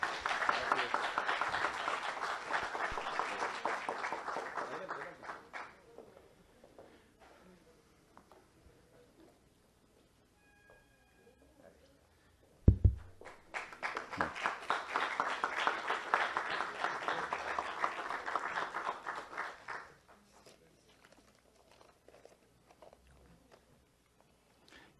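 Audience applause after a lecture on democracy at a congressional event, two broad bursts of clapping of about five seconds each separated by a quiet gap with a single thump, fairly distant and steady.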